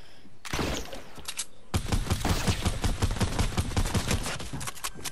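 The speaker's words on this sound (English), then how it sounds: "Tommy gun out and ready." A Tommy gun in Fortnite fires a short burst, pauses, then lets off a long sustained stream of rapid, close, loud automatic shots.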